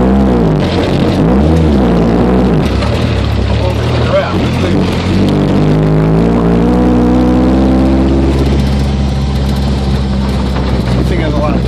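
A car engine with a loose, disconnected exhaust revs and pulls hard in second gear, a loud, rough, droning roar with rising pitch sweeps, close up under constant cabin noise.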